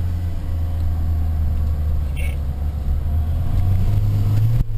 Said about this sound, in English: Wheel spinning.